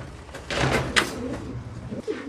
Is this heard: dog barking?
no